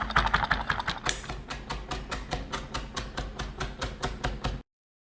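Garlic is minced with a knife on a cutting board in a rapid, steady series of sharp chops, with denser cutting at first, then evenly spaced strokes before it stops abruptly.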